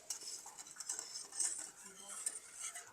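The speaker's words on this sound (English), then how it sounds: "And basically you just kind of stir it around." A spoon stirs Mexican spiced hot chocolate in a mug, with soft, light clinks and scraping taps repeating irregularly at close range against a quiet background.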